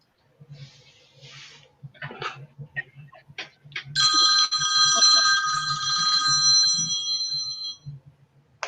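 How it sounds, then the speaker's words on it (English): A phone rings with an incoming call during a crafting chat, a bright electronic ring sustained for about four seconds, preceded by scattered soft clicks and faint voices in the background. "I got a phone call"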